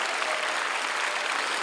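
Audience clapping at a church prayer rally for peaceful reunification, dense continuous applause from a large crowd filling the whole moment.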